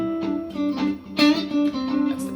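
Overdriven electric guitar plays a chord bend up and back, then moves to another note on the same string, with distorted sustained tones and wavering pitch, loud and close with no talking.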